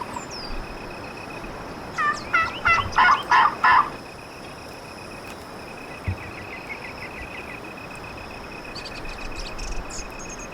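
A wild longbeard turkey in The Season hunting game gobbles in a rapid, loud burst of rolling calls, with fainter calls later over a steady background of crickets and birdsong.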